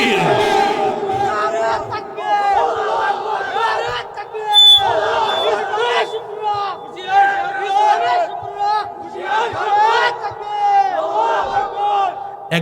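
A large crowd at a religious gathering in Kishoreganj, Bangladesh, shouts the takbir (Allahu Akbar) in response to a preacher. Loud voices rise together in repeated waves, with a ringing, echoing chant that carries on throughout.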